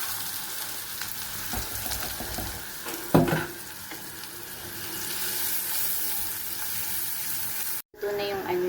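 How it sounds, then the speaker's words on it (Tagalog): Kimchi fried rice sizzles in a hot pan, a steady crackling fry with a spatula clatter partway through, a brief cut, then more sizzling with faint talk in the background. "Luto na tayo ng fried rice."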